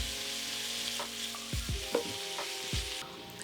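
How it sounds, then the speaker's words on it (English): Ground beef with onions and garlic sizzles steadily in a pan, a constant close frying hiss broken by a few scraping stirs, with a faint steady hum underneath and no voices. "add 1 pound of ground beef, and let everything cook for about 15 minutes"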